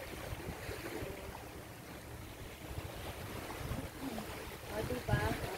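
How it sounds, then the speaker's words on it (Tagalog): Strong wind buffets the microphone on an island by the sea, a steady rough rumble with gusts swelling toward the end, while a voice speaks briefly over it. "Masyadong mahangin."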